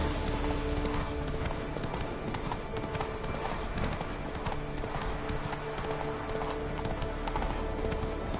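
Roach, a horse in The Witcher 3: Wild Hunt, gallops with a steady, dense clip-clop of hooves, loud and continuous over a constant low rumble of game ambience.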